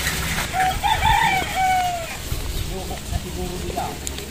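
Chickens clucking and a rooster giving a short crow amid a busy outdoor scene, with people talking in the background.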